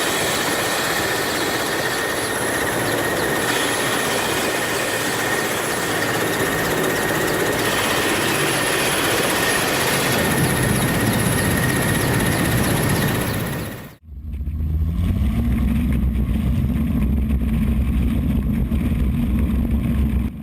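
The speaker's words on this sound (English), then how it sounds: "Dust storm erupted as a plane accelerated across a sandy field and lifted back into the air" A plane accelerates across a sandy field and lifts off, its loud, steady engine roar filling the air before cutting abruptly to a quieter, lower rumble.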